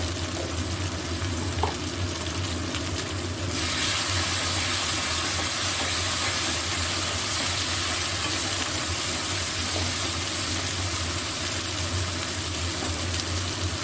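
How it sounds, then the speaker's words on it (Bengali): Ground spices with a spoonful of turmeric fry in a pan for an aloo dum with sweet corn, giving a steady broadband sizzle that grows louder and denser after a few seconds and holds without talk. "একটু এই মশলাটা ভাজা হবে"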